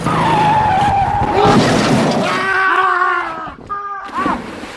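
A car skids as it brakes hard, its tires letting out a loud, close, sustained squeal with wavering pitch that breaks into a few shorter screeches toward the end.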